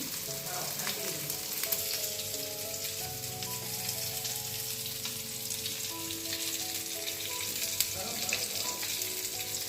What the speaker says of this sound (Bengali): রান্না বসে গেছে বন্ধুরা মাছ ভাজা বসে দিয়েছি